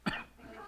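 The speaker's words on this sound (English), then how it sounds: "salt makes me cough when it's the right amount" A single short, sharp cough close by, dying away quickly into quiet room noise.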